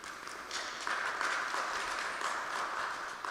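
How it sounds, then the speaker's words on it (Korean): Members at a church mission department monthly meeting give a round of applause, a moderate, steady clatter of many hands clapping in a room, continuing for a few seconds. "수고하셨다고 우리 박수 좀 부탁드리겠습니다"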